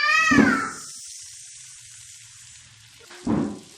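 Eggplant frying in a pan with salt, turmeric, red chili powder and cumin, giving a soft sizzle that flares loudly at the start and again near the end, fading to a faint hiss between.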